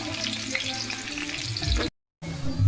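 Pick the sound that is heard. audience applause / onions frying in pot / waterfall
onions frying in pot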